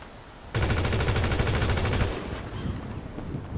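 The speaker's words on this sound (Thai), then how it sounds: "ใช่เสียงปืนมันจะเป็นอย่างเงี้ยครับ" Loud sustained automatic gunfire from a video game, a rapid burst of shots starting abruptly and running about a second and a half before easing into quieter game ambience.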